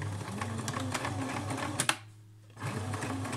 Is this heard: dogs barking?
no